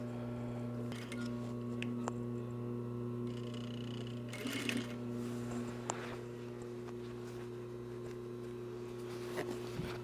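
Sewing machine stitching a shoulder bag pocket, a steady continuous motor hum with faint clicks and rattles running throughout, with no voices.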